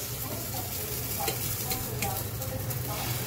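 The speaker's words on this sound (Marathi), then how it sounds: "आणि इथे आप्पे चालू." Appe sizzle steadily in vegetable oil in a hot pan, a continuous crackling hiss with occasional light scraping from stirring.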